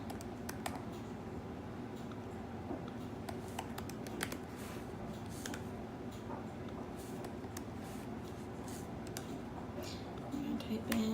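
Keys clatter on a computer keyboard in quick, irregular bursts of close, soft clicks, with a person talking faintly at times in the background.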